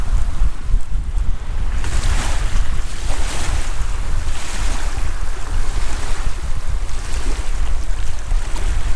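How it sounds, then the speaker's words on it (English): Strong wind at the foot of the fells near Buttermere in the Lake District, a loud, continuous roaring rush with gusting surges and buffeting on the microphone. "But it's quite windy on the bottom,"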